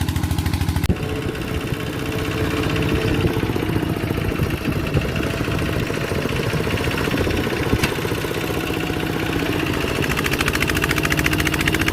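A heavily loaded farm tractor hauling rice pulls away in third gear, its engine catching at about one second and then chugging in a loud, steady, close-up drone with no talk.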